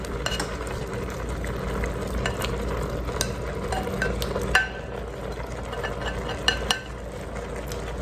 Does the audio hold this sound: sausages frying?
yes